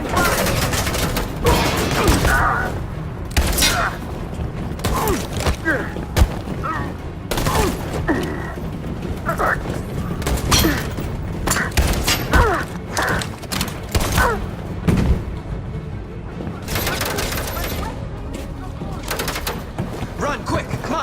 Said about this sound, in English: Let's go! Suppressing fire!